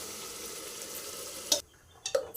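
Mint paste being stirred into fried onions in a pan: a steady sizzle ends in a sudden drop, followed by a few scraping, clattering stirs close by.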